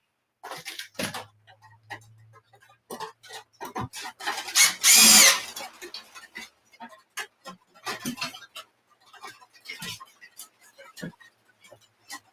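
Screws driven into a wooden workpiece with a power driver during tray carving, short whirring bursts and a louder sustained drive in the middle, interspersed with clicks and taps, close and fairly loud.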